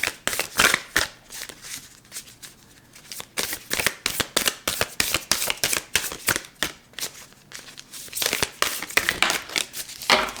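Tarot cards being shuffled up close, with repeated crisp riffling and flapping bursts in an uneven rhythm throughout and no talking.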